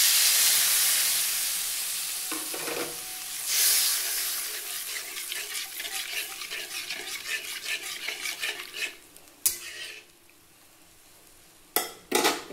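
Ash gourd curry simmering in a pan after water is poured in, with a steady faint sizzle and bubbling and intermittent stirring and utensil clinks against the pan, plus a couple of sharper knocks near the end.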